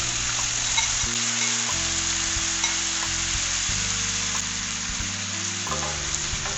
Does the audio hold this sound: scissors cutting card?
no